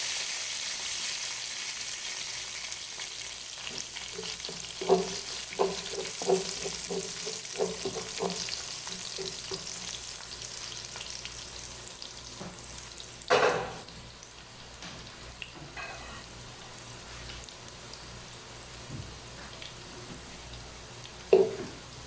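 Chana pulao with garam masala stirred in a frying pan, a soft continuous sizzle with scattered scraping taps of the spoon and a couple of louder clunks against the pan.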